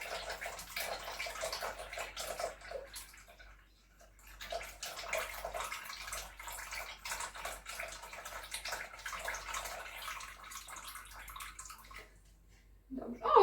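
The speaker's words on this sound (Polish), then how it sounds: "Do tego dodamy sobie 120 gram soku z cytryny." Lemon juice pours in a splashing liquid stream for a syrup of oranges with cloves, broken by a short gap. A final clatter comes near the end.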